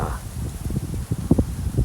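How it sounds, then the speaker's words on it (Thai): Strong evening storm wind in Sakon Nakhon blows through foliage, a continuous gusty rustle of leaves with irregular low bumps of wind buffeting the microphone, heard close with no voices. "เกิดมีลมพายุ ตามที่พยากรณ์อากาศ"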